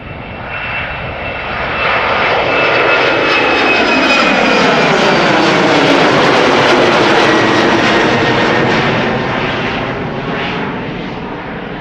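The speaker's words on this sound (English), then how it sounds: "Coming our way is an Embraer 190 outbound to Stavanger." An Embraer 190 jet airliner takes off outbound from Schiphol Airport, its engine roar swelling loud and broad as it nears, holding a sustained rumble and whine, then slowly fading away.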